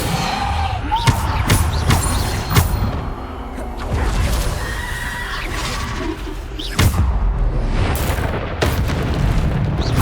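Spell explosions boom through combat in the Hogwarts Legacy video game, repeated loud blasts and impacts with crackling magic effects in quick succession over the game's background sound.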